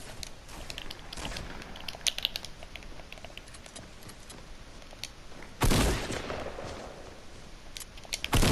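A shotgun blast rings out in Fortnite, one sudden broadband burst standing out from a faint, busy bed of rapid clicking and pattering game noise.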